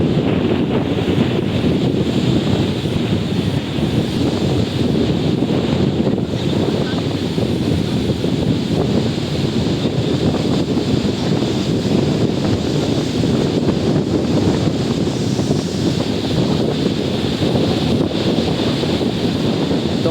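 Strong gusts at sea with 5 ft waves, a continuous loud roar of wind buffeting the microphone over surging water on a small boat, steady throughout, with faint voices underneath.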